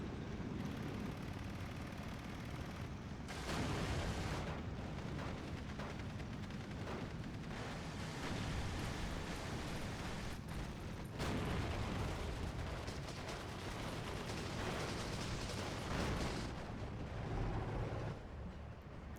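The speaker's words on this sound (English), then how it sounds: "This is the Firefly shooting at the Panther from a distance." Tank cannon fire in Steel Division, a Sherman Firefly shooting at a distant Panther, heavy booming blasts and rumbling battle noise filling a continuous loud wartime soundscape with no talking.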